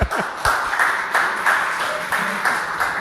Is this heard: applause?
yes